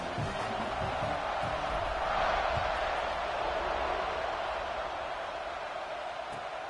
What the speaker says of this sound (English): And this place is rocking.